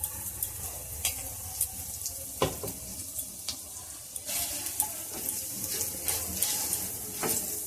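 Ground spice paste, fried without any water, hits a hot pan with a moderate sizzle. Scattered clicks and scrapes of utensils punctuate it, and no one speaks.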